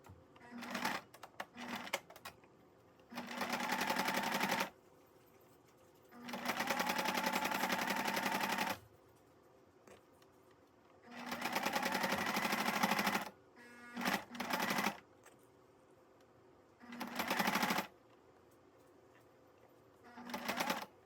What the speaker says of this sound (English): you're going to sew along 3 sides and leave one side open